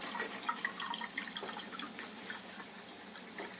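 A Leveluk K8 Kangen water machine dispenses water into a glass, a quiet trickle with light splashing and bubbling that fades slightly toward the end, with no talking.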